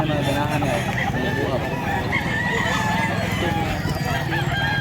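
A six-year-old Black Hennie rooster crows and clucks close by amid continuous outdoor noise and chatter, with people talking over it throughout.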